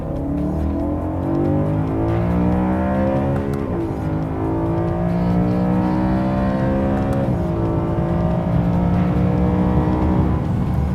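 A 2011 BMW M3 engine while driving, a loud, close, rich mechanical drone that climbs in pitch through the gears, with two brief dips at shifts, alone without talk.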